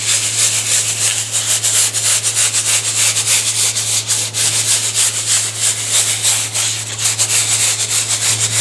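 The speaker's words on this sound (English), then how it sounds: "I have a block with some sandpaper on it, and all you do is start little circles." A sandpaper block rubs in small circles over a gesso-coated canvas, a close, steady, rhythmic scratchy sanding that continues throughout.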